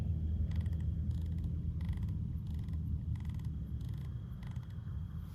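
Soft repeated clicks from the turret of a DiscoveryOpt HD 5-30x56 FFP rifle scope come in short bursts of several clicks each, quiet over a steady low rumbling background.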